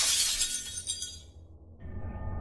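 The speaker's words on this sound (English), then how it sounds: "Another shattering sound was heard." Glass shatters in a bright crashing burst that rings and scatters off within about a second, followed by a low, dark rumble, used as a sound effect in a horror drama reading.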